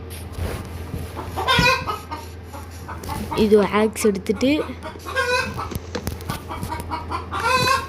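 Chickens cluck and squawk in bursts from a game world while someone talks in Tamil over them, the bird calls rising briefly between his words.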